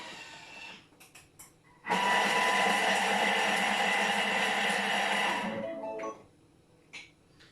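A Thermomix whirs loudly for about four seconds, chopping garlic and ginger with a steady high-pitched motor whine that starts abruptly and then winds down, with quieter clicks before and after.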